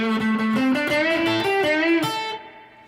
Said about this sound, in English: So the next lick sounds like this.